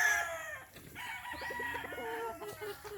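Stag roosters crow on a gamefowl farm, with one drawn-out crow and clucking among faint, distant birds.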